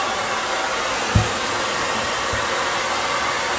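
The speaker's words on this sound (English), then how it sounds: "And then I just dry with the cool air." A hair dryer blows cool air steadily while a dog is groomed at home, a loud constant whoosh close by with a couple of brief low bumps, no voices.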